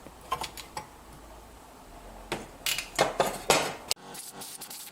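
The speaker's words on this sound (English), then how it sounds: "Then I undo all the bolts, the Torx bolts holding the gearbox together" Metal tools clinking and rattling against fasteners while Torx bolts are undone on the gearbox casing of an Etesia Pro 51 mower, a run of sharp close-up clicks and scrapes, with a brief louder burst of activity toward the end.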